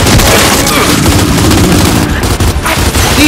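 Dense, loud enemy gunfire in the Gears 5 shooter, played on an Xbox Series S: rapid automatic bursts and booming impacts rattling without pause for the whole stretch.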